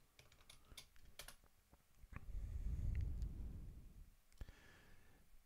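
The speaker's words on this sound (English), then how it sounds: "then we're going to type in the password" Keys clatter briefly on a computer keyboard while a password is entered, with a few quick clicks, a soft breath-like swell in the middle, then more taps, all quiet and close.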